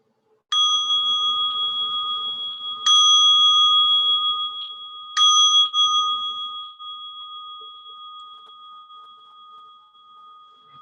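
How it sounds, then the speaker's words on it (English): A meditation bell rings three times, each strike a clear resonant ding, and the last tone is left to fade slowly into a long sustained hum. "I'll be inviting 3 sounds of the bell"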